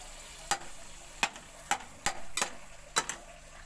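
A spoon scraping and tapping through a puff patty filling mixture in a sizzling pan, with about seven sharp clinks at an uneven pace over a soft frying hiss, close and fairly quiet, with no talking.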